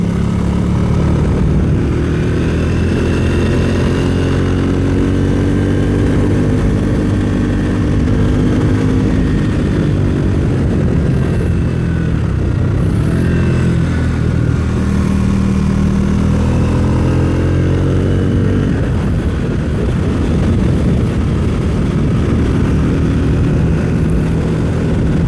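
A Triumph Speed 400 motorcycle's single-cylinder engine drones steadily and loudly while being ridden, its pitch rising and falling with throttle and gear changes, with wind rush throughout and no talking.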